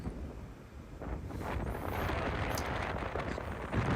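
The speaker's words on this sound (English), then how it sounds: "That's why we're so exposed to the wind." Wind gusting across a wide-open clifftop golf course at Sheep Ranch, Bandon Dunes, producing a rumbling microphone buffet that builds and stays strong, with a brief faint whistle, and no talking.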